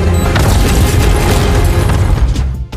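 A deep, roaring bomb blast set off by a detonator in a sci-fi film fills the whole stretch with a heavy rumble before fading out at the end.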